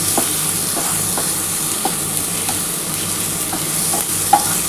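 Egg curry masala sizzles and crackles steadily in a hot pan while a utensil scrapes and stirs at irregular intervals.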